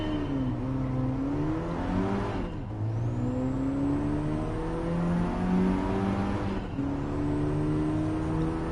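A Peugeot 208 GTI engine in Gran Turismo revs steadily through the gears, with two quick shifts and a high whine climbing over the continuous loud engine drone.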